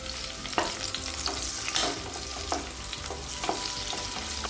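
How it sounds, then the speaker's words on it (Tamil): Sliced onion frying in hot oil for chilli chicken, a steady close sizzle with spatula scrapes and taps against the pan at irregular intervals, no talking. "அடுத்தது வெங்காயத்தை இது மாதிரி கட் பண்ணி சேர்த்துக்கலாங்க. ஒரு வெங்காயத்தை சேர்த்துருக்கேன்."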